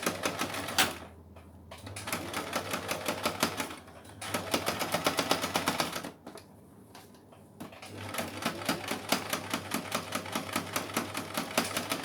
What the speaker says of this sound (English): So I'm going to sew across and get it ready to be turned over.